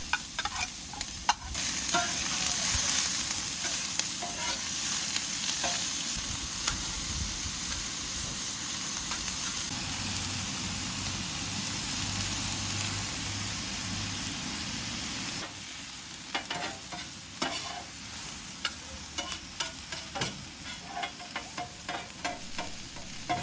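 Chopped onion and carrots fry in vegetable oil on a flat griddle, giving a steady close sizzle with scraping and stirring throughout, which grows busier and more crackly near the end.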